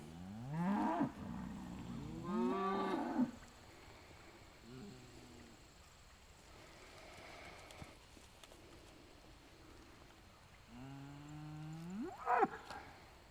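An orphan calf being weaned bawls and hollers near a herd of dual-purpose beef cattle, a few drawn-out moos at the start and again near the end, separated by quieter outdoor stretches with faint animal sounds.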